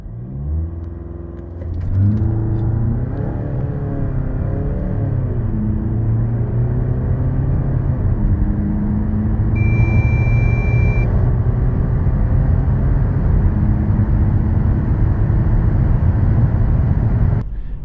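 A 2024 VW Tiguan 2.0 TDI 4Motion diesel SUV revs up and accelerates hard from a standstill, a loud, steady rising roar that holds for the whole stretch, with a brief high beep midway.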